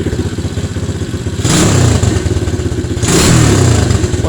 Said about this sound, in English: Little pit bike, SSR 110.